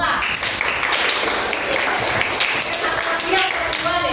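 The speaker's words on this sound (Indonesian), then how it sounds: "Tepuk tangan buat Mata." A classroom of students claps for a classmate, a brisk, close burst of many hands clapping together with children's voices mixed in underneath.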